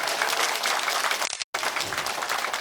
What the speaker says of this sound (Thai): อยากให้ปรบมือดัง ๆ ให้ท่านประธานและคณะกรรมการครับ